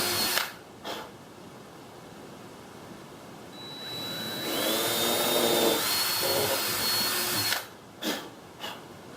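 Power drill pre-drilling holes for the door hinges of a 5x8 teardrop camper, a steady whine running several seconds, framed by short clunks of handling before and after.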